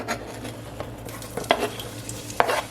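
Chopped onions slid into hot oil in a pan for spaghetti sauce, giving a steady sizzle with a few sharp clinks and scrapes of the pan close by.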